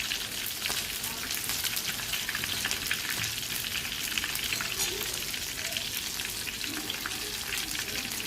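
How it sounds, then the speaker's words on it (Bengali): Small pieces of fish frying in oil give a dense, steady sizzle with crackling spatter, close and even throughout, with no talk over it. "মাছ ছোট ছোট টুকরো করে নিয়েছে তো কড়া করে ভেজে নিব"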